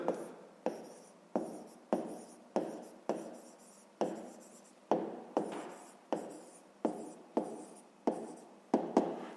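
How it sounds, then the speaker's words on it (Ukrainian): A pen scratches steadily across paper as fractions are written out by hand for a fifth-grade maths exercise, a close, regular series of short strokes with pauses between them, alone without talk. "Пишемо правильні дроби."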